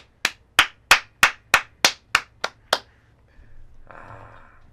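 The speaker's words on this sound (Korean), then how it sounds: "박수 한번 또 주세요." About nine sharp, evenly spaced claps ring out in a quiet room at a billiards match, followed by a soft brief murmur of sound.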